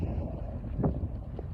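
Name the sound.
strong wind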